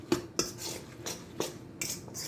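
A spoon clinks against a bowl while paprika seasoning is mixed for cucumber kimchi: four or five light, separate taps, quiet and close, with no voices.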